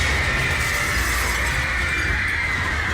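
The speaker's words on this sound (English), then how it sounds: "Together, the 2 failed footbridges come crashing down into the crowded hall." Suspended steel and concrete footbridge walkways collapsing into a crowded hall, a dense continuous roar of crashing and shattering debris that stays loud and unbroken throughout.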